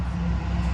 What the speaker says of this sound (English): Concrete truck.